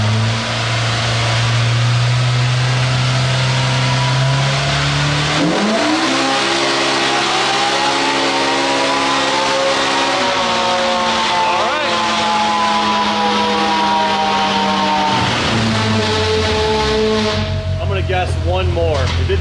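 A side-by-side engine revving hard on a dyno, comparing a 2022 Polaris RZR Pro R and 2021 Can-Am Maverick X3 Turbo RR: loud, sustained droning pulls rising in pitch through several stepped climbs and drops, with voices talking over it.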